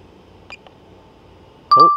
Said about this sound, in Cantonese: 呢個強風警告啊！